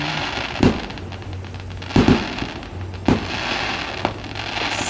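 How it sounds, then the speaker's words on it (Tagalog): New Year fireworks and firecrackers burst in sharp separate booms about once a second, four loud reports over a steady background hum with no talk. "May fireworks."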